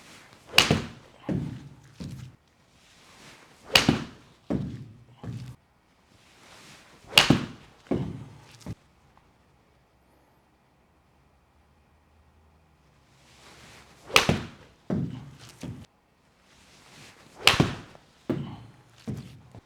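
SpeedSoft soft golf balls are struck by a club in several close, sharp impacts, each followed by faint rustling, grouped in short bursts with a long quiet gap in the middle.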